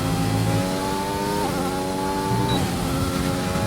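A race car engine in a racing video game drones loudly and steadily, with two quick upshifts where the pitch drops and climbs again, no voices over it.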